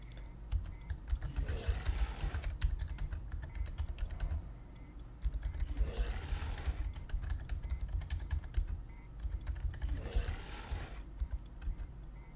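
Rapid typing on a computer keyboard clatters steadily throughout in three bursts of denser key strikes, played at moderate volume with no voices.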